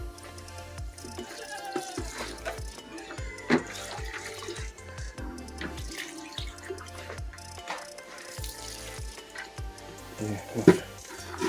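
Water pours and drips into a container for farm animals, with several short splashing bursts and trickles and scattered clunks at a steady, close, moderate level.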